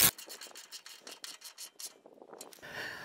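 A 15 mm wrench snugs a slip-on exhaust bolt on a Harley-Davidson motorcycle, giving a quick run of close, rhythmic rasping clicks, likely a ratchet, that trails off into a brief hiss at the end.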